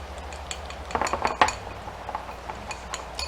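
A utensil stirs a potato wedge basting mixture of olive oil in a bowl, giving soft scraping and light clinks that come in a brief cluster, near and fairly quiet, with no voices.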